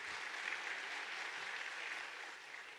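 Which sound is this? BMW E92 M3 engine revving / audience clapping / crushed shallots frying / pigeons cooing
audience clapping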